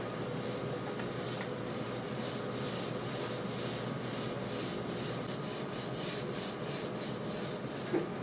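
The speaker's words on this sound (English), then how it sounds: "We're just going to start with the roller and roll on some really thin coats." A paint roller spreads thin coats of primer across a Volkswagen Vanagon Westfalia pop top, giving a steady, close, soft rubbing swish in repeated strokes with no talking.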